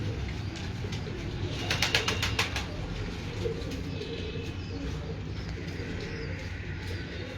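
Pigeons cooing from a rooftop loft, a steady soft backdrop with a brief burst of sharper chirps and flutter-like clicks near the start, continuing without speech over constant low ambient noise.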